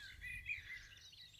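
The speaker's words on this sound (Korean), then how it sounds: "새소리가 들리고" Birds chirp and sing faintly in a quiet rural New Zealand village near Kerikeri, thin high tweets over near silence.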